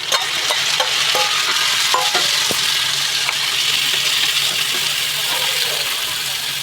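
Tomatoes hitting fried onions in a hot pan, a loud dense sizzle that carries on evenly with several clinks and scrapes of stirring in the first half.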